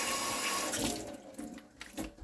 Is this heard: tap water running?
yes